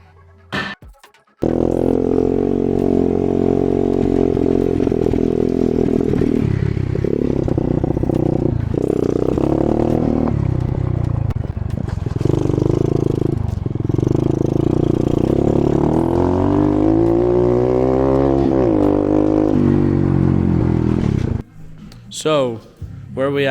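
A Honda Z50R minibike fitted with upgraded full suspension is ridden, its small engine droning steadily and revving up and down throughout, loud and close, with clatter near the end.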